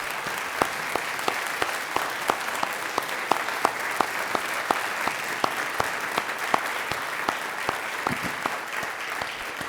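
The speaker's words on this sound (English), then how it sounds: "could you just stand up and we'll give you a round of applause" A large university audience applauds the advancement team at a State of the University address, a full steady roar of clapping with a few sharp individual claps punctuating it regularly throughout.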